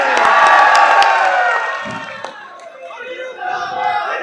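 A large crowd cheers and shouts loudly at a political rally in a market in Tosham, India, held for Anirudh with cricketer Sehwag present, a dense continuous roar that eases briefly midway before swelling again.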